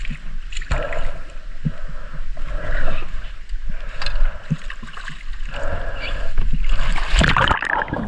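A diver hops into cold ocean water off the New Jersey shore during a spearfishing trip, with sloshing, gurgling water and a loud splash near the end, all close by.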